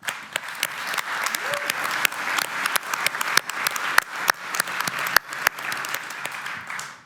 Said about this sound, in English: they really need an applause on this side